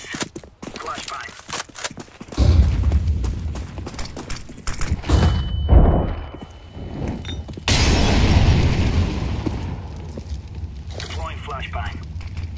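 A flashbang grenade detonates in Counter-Strike 2 Wingman play: a sudden loud, bright burst a few seconds in, preceded by thuds and footsteps, with voices talking around it.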